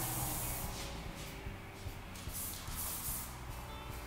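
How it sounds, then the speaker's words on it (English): Several quick hissing spritzes from a spray bottle onto hair, repeated in a loose rhythm at close range over a soft background. "spraying down the cuticle there because that really helps with the polishing"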